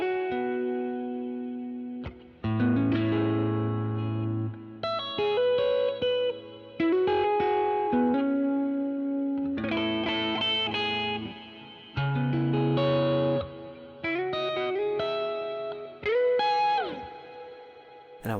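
Electric guitar chords run through a Meris Mercury X stereo hall reverb pedal set with a touch of grit and hiss, notes blooming into long washy tails between strummed phrases, with no voice.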